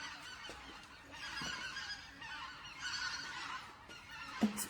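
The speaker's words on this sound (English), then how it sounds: "Birds are coming through." Geese pass overhead honking in scattered, repeated calls at moderate distance, rising and fading over several seconds against faint outdoor background, ending with one sharper close call.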